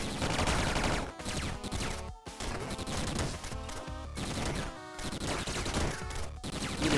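Rapid bursts of gun boots firing in the video game Downwell, dense chiptune-style shots layered over busy game music, loud and nearly continuous with short breaks.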